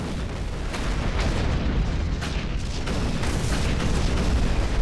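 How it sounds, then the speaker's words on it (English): A coolant pipe blowing apart in Doom 3, heard as a loud, sustained roaring blast with rumbling low end that persists steadily for several seconds with no talk. "So because one guy shot one pipe, the entire thing is going to explode"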